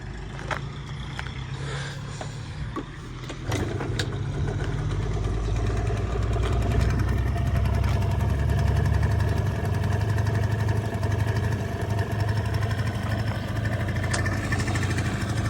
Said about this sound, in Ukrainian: гарно працює двигун.